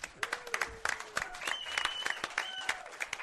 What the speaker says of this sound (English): All right, round of applause for Chris.